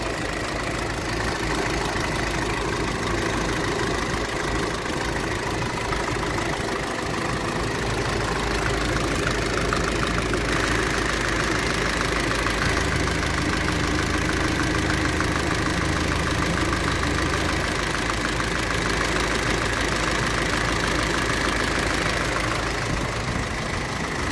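Cold Isuzu 4HK1 diesel engine idling, a steady close rumble with constant rattling clatter and a knocking undertone, unchanging throughout with no voices.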